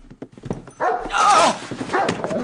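A pet dog barks and yips repeatedly in quick, loud bursts close by, reacting to a dog whistle, with brief whimpering between barks.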